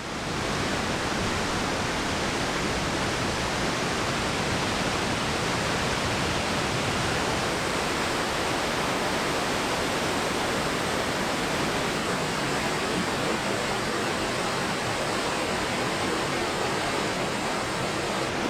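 Rough river water rushes through the Caney Fork River Gorge at Rock Island State Park, a loud, unbroken broadband roar like a waterfall that holds steady from start to finish with no voices.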